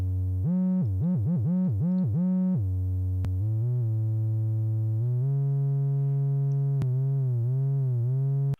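A buzzy synthesizer bass with portamento glide plays a run of quick wobbling notes, then longer held tones that slide smoothly between pitches, loud and steady with no voices.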